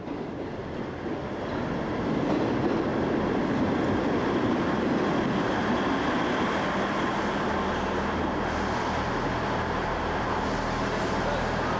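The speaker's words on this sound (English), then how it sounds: "this is our train for the short ride, one stop down to Paignton" Inside a Class 159 diesel multiple unit on the short run to Paignton, a dense, steady rumble of engine and wheels on track fills the carriage continuously, swelling slightly early on and holding loud throughout.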